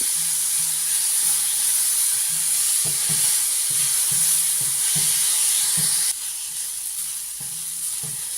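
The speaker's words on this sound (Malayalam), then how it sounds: "മുളക് പൊടിയാണെങ്കിൽ ഇതിൻ്റെ കൂടിയിട്ട് വഴറ്റണം." Papaya pieces sauté in a pan with turmeric and chilli powder for a Kerala-style papaya chutney, giving a steady close sizzle broken by rhythmic scraping stirs, with no one talking.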